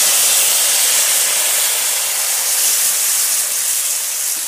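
Ground masala paste fries in a pan for a prawn and cauliflower curry, producing a loud, steady, broad hiss and sizzle close by without a break.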